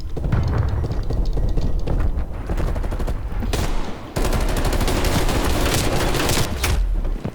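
A Regal Scepter gun in Call of Duty Black Ops Cold War fires loud, close shots in a dense, nearly continuous run, with a brief lull just past the midpoint.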